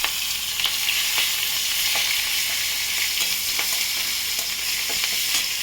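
Sliced onion frying in oil tempered with black cumin, steady loud sizzle throughout with occasional soft scrapes of stirring, no voices.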